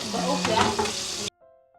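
Somay sizzles loudly as it fries in hot oil, a dense steady crackle close up that cuts off abruptly partway through.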